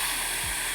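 Fast air blown hard through the lips, at the air speed a trumpet player uses for a high G, makes a brief, steady, breathy hiss close up.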